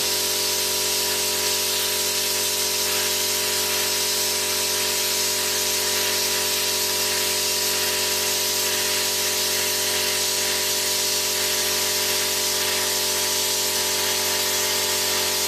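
A plasma cutter cutting metal while a small air compressor runs, giving a loud, constant hiss over a steady mechanical hum with no pauses.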